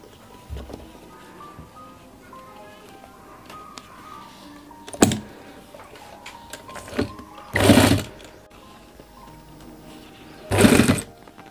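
A sewing machine stitches a men's kurta in short bursts: three or four quick whirring runs spaced a few seconds apart, the later ones longer. Quiet handling noises fill the gaps.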